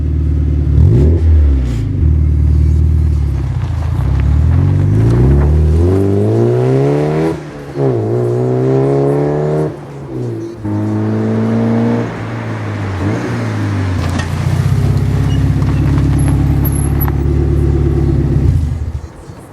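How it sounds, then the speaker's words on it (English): Porsche 968 engine revving hard and continuously, with a deep rumbling drone whose pitch sweeps up and down through repeated rises and falls, loud and close, no voices. "I absolutely hate the way this car sounds"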